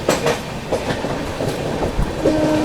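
Chennai Express passenger train pulling into Kalyan Junction, with steady rumbling wheels and rhythmic clickety-clack over rail joints, plus a brief sustained horn-like tone near the end; no talking.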